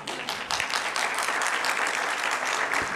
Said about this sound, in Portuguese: Caraca, eu nunca fui tão aplaudido em tão pouco tempo, né?